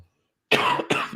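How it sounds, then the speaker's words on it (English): A man coughs twice in quick succession, close and fairly loud, during a live post-game show after a Notre Dame versus Oklahoma State Fiesta Bowl. "excuse the cough"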